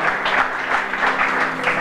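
Steady, dense clapping from a congregation at an ordination service fills the space, close and sustained with slight swells in intensity.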